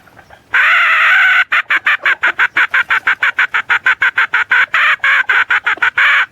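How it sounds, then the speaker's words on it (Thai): A fighting rooster gives loud, close, rapid repeated clucking calls in a quick pulsing rhythm after one longer opening call, dominating the clip with no talk. "อ้าว ตัวนั้นขันไปแล้ว"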